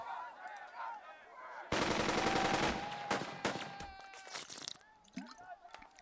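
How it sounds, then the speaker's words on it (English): Rapid bursts of gunfire in the war strategy game Burden of Command, a dense loud volley of overlapping shots that starts abruptly and then thins into scattered cracks, with faint speech before it. "Yeah, why don't you shoot him again?"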